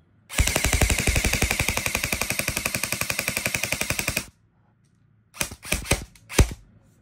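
E&C HK M1101 A1 airsoft rifle fires a rapid full-auto burst of about four seconds, a steady close mechanical rattle, followed by a pause and three short separate bursts.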